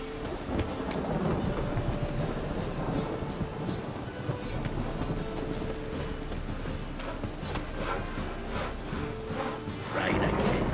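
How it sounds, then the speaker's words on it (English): Steady rain with rumbling thunder in the game The Witcher 3, a continuous wash of rainfall under low rolling rumbles, with a louder crack near the end. "Ah! Rain again."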